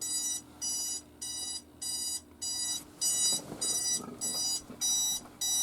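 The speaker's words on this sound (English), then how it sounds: "You set my alarm to go off." An alarm clock goes off with a loud, steady run of evenly spaced electronic beep bursts, about two per second, close by with a faint hum underneath and no talk.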